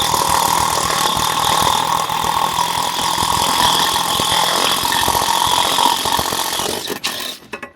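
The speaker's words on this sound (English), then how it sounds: "we are gonna drill the second hole right there on the rib" A power drill bores a hole through a rib at the upper shock mount of a Winnebago Ekko van, giving a steady, loud whine and grind that sputters out at the end.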